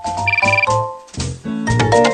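A cell phone rings with a repeating electronic melodic ringtone, loud and close, in two phrases with a brief pause between them and no talking.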